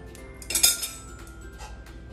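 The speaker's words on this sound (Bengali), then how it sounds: "এখন আমি আরও 5 মিনিটের জন্য চুলার আঁচ কমিয়ে ঢাকা দিব" A metal lid goes onto a pot of beef khichuri on the stove, giving a short close clatter and clink of cookware against a quiet background.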